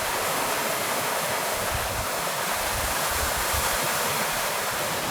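Forest trees rustle in the wind, captured through a microphone kit as a steady, dense, broadband wash of leaves, continuous and fairly soft with no voices.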